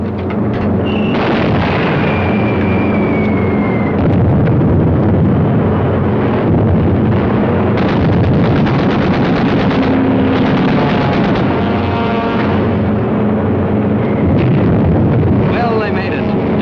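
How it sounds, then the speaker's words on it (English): Wartime film soundtrack of 600-pound TNT bombs exploding, heard as continuous loud rumbling blasts and roaring wind-like noise that fill the whole stretch, with a whistling tone early on and a voice faintly mixed in. "Direct hits with those 600-pounders of TNT blowing up right in Hirohito's face."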